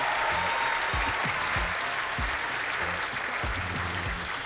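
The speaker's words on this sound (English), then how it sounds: "Give them a round of applause," Audience applause at a live circus show under a big top, a moderate, steady patter of clapping with a few low thumps, fairly distant and without speech on top.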